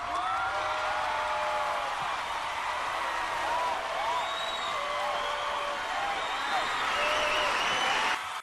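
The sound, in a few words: member cheer applause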